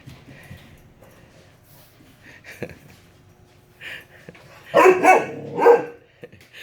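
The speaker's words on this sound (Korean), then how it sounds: "또 남자처럼 짖는다" A small dog gives a cluster of sharp, close barks near the end after a quiet stretch with faint yips and snorts; someone talks and laughs softly in the background.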